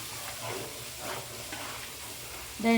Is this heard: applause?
no